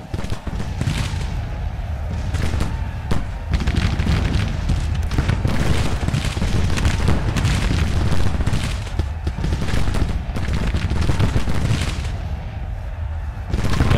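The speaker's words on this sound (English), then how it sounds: "Artillery." Artillery fire in the Civil War strategy video game Grand Tactician, loud overlapping cannon booms and rolling volleys in a dense continuous barrage with battlefield rumble.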